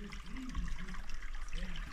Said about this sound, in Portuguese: tem dois canos jorrando água